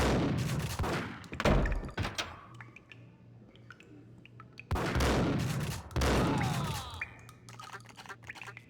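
Bursts of gunfire from the Max Payne video game crack out in several loud volleys, with quieter stretches of scattered shots and ringing between them.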